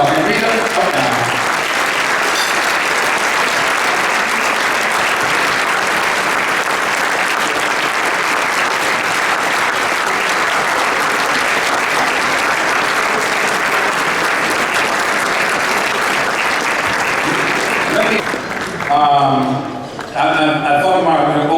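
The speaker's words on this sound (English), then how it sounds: "Please, everybody, give Rita a hand of applause" Sustained, loud applause from a dinner audience at an annual community gathering, clapping steadily for about eighteen seconds before fading as a voice begins speaking.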